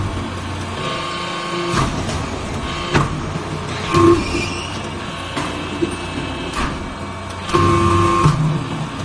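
A metal scrap briquetting machine for iron and aluminum cuttings runs in automatic mode, giving a steady mechanical hum with repeated clunks and hydraulic surges at intervals, moderately loud and without speech.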